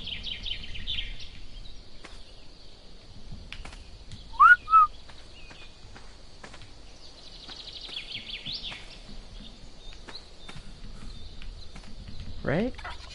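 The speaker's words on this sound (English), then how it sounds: "You heard the whistle." In a Thylacoleo survival game on Khan Island, a couple of short, sharp whistles ring out over a quiet, faint ambient backdrop, followed later by one rising sweep.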